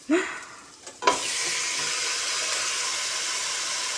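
Marinated pork hits a hot pan with sautéed garlic and onion, bursting into a loud, close sizzle after a brief stir, then settling into a steady, even frying hiss.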